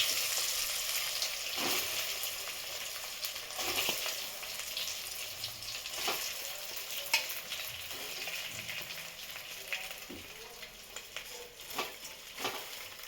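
Hot oil with asafoetida and sesame seeds sizzles steadily as dhokla pieces are tempered, a continuous loud frying hiss with occasional spatters and stirring clicks, no voices.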